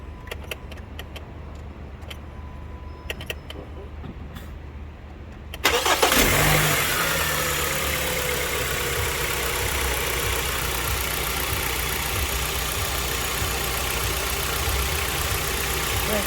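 Quiet faint ticking gives way to a Kia Optima engine cranking and catching, then settling into a steady, continuous idle close by.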